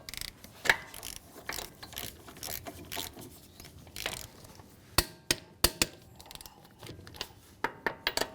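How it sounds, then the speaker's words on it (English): A torque wrench tightens lug nuts to 75 foot-pounds in a crisscross pattern on a 2015-2019 Hyundai Sonata rear wheel, giving quiet, irregular ratcheting clicks and several sharper snaps close up. "we're going to torque down our lug nuts to 75 foot-pounds."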